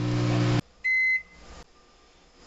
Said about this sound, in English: So we throw it in the microwave and we're going to let that heat up.